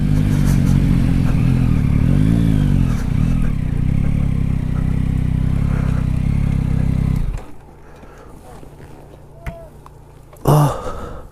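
Yamaha MT-09 (2021) motorcycle riding across grass during a press test ride, its engine a loud steady drone for about seven seconds before cutting away to quieter ambience with a brief burst near the end.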